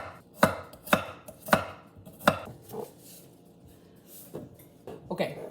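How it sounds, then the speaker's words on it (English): A knife cuts thick garlic slices on a cutting board for a tomato and shallot pasta, five or six crisp, evenly spaced chops close by, then a pause and a couple of softer cuts. "Thick slices of our garlic as well"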